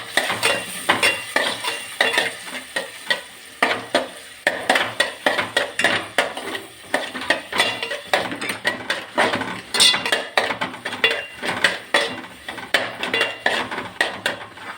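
A spoon scrapes and clatters steadily against a pan while a brinjal and field-bean curry with tomato is stirred and sautéed, a continuous rhythmic stirring over a faint sizzle, near and without talk.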